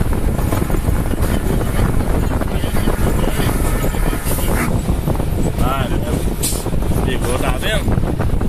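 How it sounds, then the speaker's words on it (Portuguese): A loud, rumbling Ford F350 truck engine, turbocharged and intercooled, roars continuously, its engine brake giving a deep stuttering drone, with wind noise buffeting the microphone. "Olha o barulho do freio motor."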